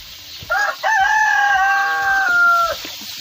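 A loud, close rooster crow, one long drawn-out cock-a-doodle-doo lasting a couple of seconds over quiet background noise.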